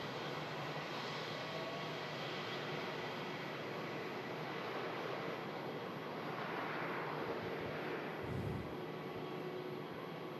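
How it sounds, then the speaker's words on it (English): A Virgin Atlantic A330 airliner taxiing at Manchester Airport gives a steady, distant engine roar with a faint hum, unchanging across the whole stretch. "the 330 of Virgin Atlantic, which has just begun its taxi for New York"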